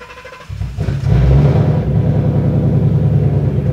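A tuned car running an AlphaECU cranks briefly and fires up loudly, then settles into a steady, rumbling idle close by.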